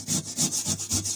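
Metal wire brush scrubbing surface rust off the rear deck panel of a 1991 Mazda Miata, a close, rhythmic rasping in steady back-and-forth strokes, about seven quick passes with no talk.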